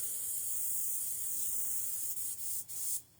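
An airbrush sprays oil paint in a steady close hiss that holds for a few seconds, then cuts out in short bursts and stops, with no one talking.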